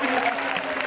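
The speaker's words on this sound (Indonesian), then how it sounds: "Tepuk tangan dong untuk Caya-Caya." Brief burst of studio audience applause on an Indonesian game show, a dense, even wash of clapping at moderate volume.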